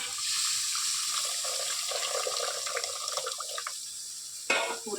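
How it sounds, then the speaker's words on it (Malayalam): Tamarind water pours steadily into a curry in a continuous splashing stream, ending with a brief louder splash near the end; no talking. "പുളിവെള്ളം ഒഴിച്ചു കൊടുക്കുകയാണ്"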